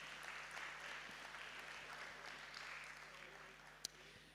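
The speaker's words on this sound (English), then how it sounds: "let's give a big round of applause." At a graduation ceremony, an audience applauds in a steady, fairly faint wash of clapping that continues evenly throughout, with a steady hum underneath and one sharp knock near the end.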